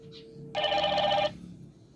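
A GW55 smartwatch rings for an incoming WhatsApp call, giving one short bright ringtone burst close up, preceded by a faint chirp and followed by quiet room noise.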